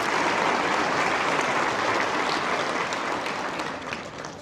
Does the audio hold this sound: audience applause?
yes